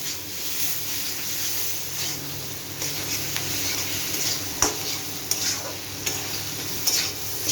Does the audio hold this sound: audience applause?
no